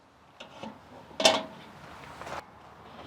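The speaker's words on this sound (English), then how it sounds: "I'm just going to go ahead and slide the pan down in here" A metal pan slid down into a Masterbuilt charcoal bullet smoker, giving a single bright clank followed by a short, dull scrape, close and fairly quiet.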